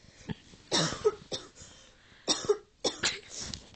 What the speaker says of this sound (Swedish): Hosta då.